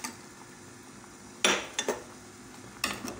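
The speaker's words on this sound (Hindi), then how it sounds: "इसको हम अच्छे से मिक्स कर लेंगे ताकि हमारे नूडल्स जो हैं वो अच्छे से गल जाएं" Spoon stirring noodles into boiled vegetables in a cooking pan, with a few sharp scraping clinks against the metal, two bursts close together then another, over a quiet background.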